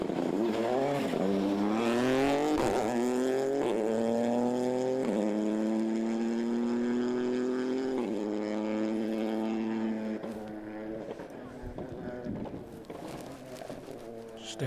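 A rally car at full throttle passing close on a stage of the 2023 West Cork Rally near Clonakilty, engine pitch climbing loudly, then fading away with a brief flurry of gear-change pops and gravel noise.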